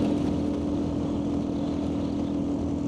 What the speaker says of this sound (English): My bike is already struggling with the elevation.